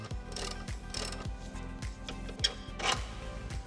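Ratchet wrench cranking out a pivot bolt from a vehicle control arm, a steady run of close metallic clicks in a regular back-and-forth rhythm, with no talking.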